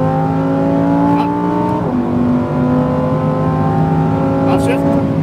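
A supercar engine pulled at full throttle, a loud, close, rising roar that climbs in pitch, drops briefly at a shift, then climbs again, with a voice talking over it.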